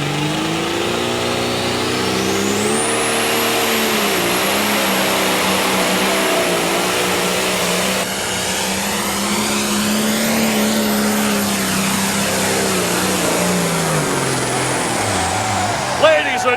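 A John Deere pro stock pulling tractor roars through a full pull at a 1998 NTPA event in Bowling Green, Ohio: a loud, sustained engine howl with a high whine that holds steady for the whole run before dropping off at the end.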